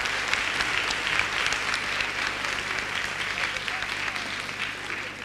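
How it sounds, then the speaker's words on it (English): Sustained audience applause at the close of a leadership conference session, a dense, steady wash of clapping from a large crowd in a hall, with faint voices mixed in. "A big round of applause once again."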